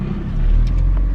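Interior of a Nipsey Blue BMW on the move, a heavy low engine and road rumble that swells slightly as the car rolls along, loud and close.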